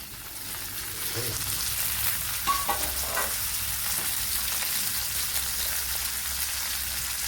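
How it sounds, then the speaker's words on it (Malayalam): Carrot and beans sautéing in oil, a dense steady sizzle and crackle with a few light knocks of a utensil early on, close and even throughout. "ഇവിടെ കുറച്ച് ഓയിൽ ചേർത്ത് കൊടുത്തിട്ടുണ്ട്. അതിലേക്ക് ക്യാരറ്റ് ചേർത്ത് കൊടുക്കാം. അതേപോലെ ഈ ബീൻസും ചേർത്ത് കൊടുക്കാം"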